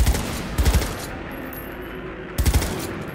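Bursts of rapid gunfire from a power weapon assault rifle in Cyberpunk 2077, two loud close volleys separated by a quieter stretch of lingering echo.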